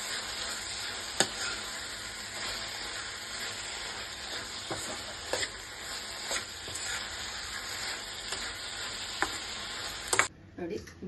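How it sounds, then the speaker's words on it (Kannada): A spoon stirs roasted crushed peanuts into carrot palya in a hot pan, scraping in irregular strokes over a steady close sizzle of frying, with a few sharper clinks against the pan before it stops abruptly near the end. "ಈ ಥರ ತರಿಯಾಗಿ ಹುರಿದು ಇಟ್ಕೊಂಡಿರೋದು ಹಾಕ್ಬಿಟ್ಟು ತಿರುಗಿಸ್ಬಿಡಿ"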